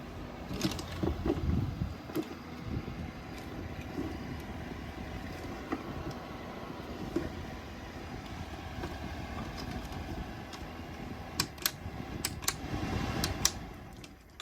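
Low-power adjustable fan running steadily inside a boat cabin, a quiet continuous whir with faint clicks and small knocks around it, nobody talking.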